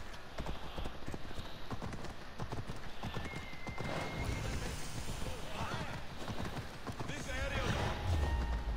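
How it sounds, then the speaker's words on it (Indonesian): A horse gallops in the Assassin's Creed Odyssey video game, its rapid hoofbeats running steadily under game music and ambience while a player talks over it throughout. "Oh, aku naik kuda dulu dah."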